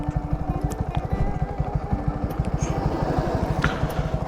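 A motorcycle engine chugs while riding, a close, rapid, even beat of firing pulses with a faint mechanical rattle over it, steady at moderate loudness throughout.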